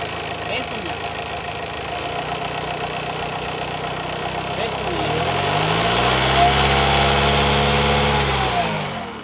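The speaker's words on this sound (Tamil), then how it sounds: "இப்போ இன்ஜின் ரன் பண்ணியிருக்கிறாங்க," A Honda Mobilio car engine runs at idle, a steady close mechanical hum that rises into a deeper, stronger drone midway before easing off, with faint voices in the background.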